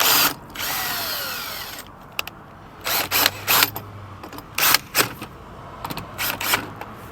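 A cordless power drill drives a bolt into an anti-theft lock fitted to a van, a sustained whine followed by several short bursts of buzzing with ratchety pauses between, close and loud.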